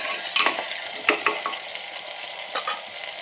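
Onion and tomato are stir-fried in a pan for vegetable pulao: a continuous close frying hiss broken by several sharp spatula scrapes and stirs.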